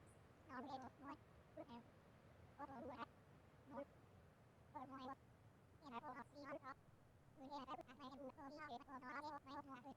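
Cats meowing in the video game Calico, several high harmonic calls in short clusters, some quick overlapping runs, close and clear over a low steady game background.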